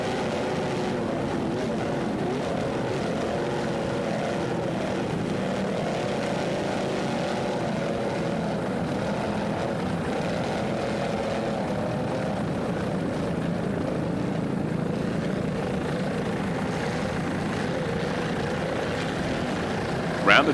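A racing powerboat with a set of 800-horsepower Mercury inboard engines drones steadily for a long stretch, a loud, continuous roar with a faint voice mixed into the din.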